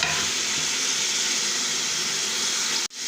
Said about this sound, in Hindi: अब ऑयल हमारा गर्म हो गया है, इसके अंदर पाए हम ऐड करेंगे